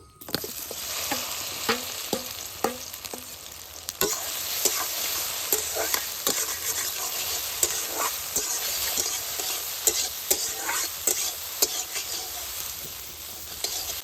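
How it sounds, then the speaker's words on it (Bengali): Soybean chunks fry in hot mustard oil in a wok, sizzling steadily and loudly while a utensil stirs them with repeated sharp scrapes and clacks. "এখন আমি সয়াবিনগুলিকে ভেজে নেব।"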